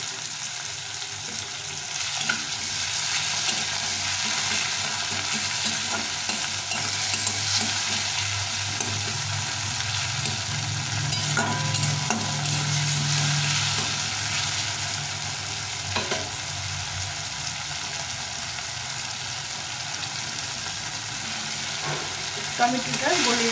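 A small tomato with a pinch of salt sizzles steadily in a hot pan for a bitter gourd curry, with occasional stirring scrapes over the constant frying hiss.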